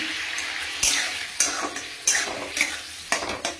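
Poppy seed paste is stirred into fried ridge gourd in a pan: a steady sizzle broken by six or seven sharp scrapes and clinks of the spoon against the metal, close up.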